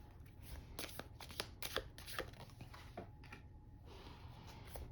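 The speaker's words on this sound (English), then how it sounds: "I'm pulling this out and shuffling them" Quiet, close riffling and flicking of cards being shuffled in repeated bursts over a low background hum.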